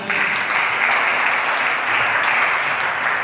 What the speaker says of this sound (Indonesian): Berikan tepuk tangan baginya.